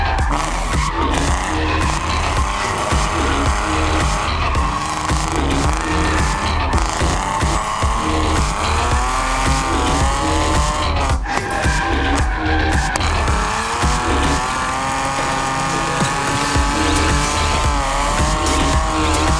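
BMW E46 and Nissan 350Z drifting in tandem on a barricaded track at Adams Motorsports Park, engines roaring continuously with long tire squeals rising and falling, loud and close throughout.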